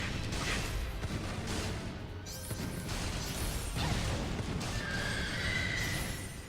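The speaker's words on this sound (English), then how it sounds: "That was a horse." A horse whinnies in the video game Odin Sphere Leifthrasir amid busy, crashing game effects and explosions, loud and layered throughout.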